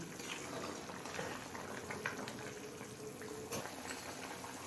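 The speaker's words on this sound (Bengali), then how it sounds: "পাঁচ ছ মিনিট সময় নিয়ে সব কিছু হাই ফ্লেমে ফুটিয়ে নিলাম" Raw banana curry bubbling away in a pot over a high flame, a faint, steady simmering burble with soft liquid pops throughout and no voices.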